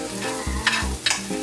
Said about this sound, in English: See how I stir everything around and make sure it's blended?